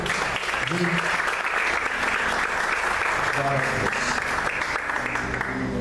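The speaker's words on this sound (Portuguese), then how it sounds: "Você pode aplaudir o Senhor com muita alegria?" A church congregation at a worship service claps steadily and enthusiastically, a dense continuous applause filling the room, with a voice speaking over it.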